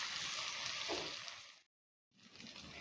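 Aloe vera sabzi sizzles steadily in a pan over medium-high gas while being stirred, a continuous frying hiss that cuts out abruptly for a moment before resuming.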